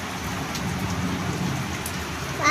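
Steady rain falls outdoors as an even, close hiss of drops hitting surfaces, with no voices over it and a slight swell at the end.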